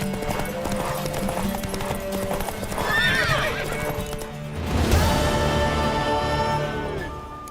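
In the video game The Witcher 3, hooves clip-clop steadily while a horse lets out two whinnying neighs, one partway through and a louder one later, over a low background hum.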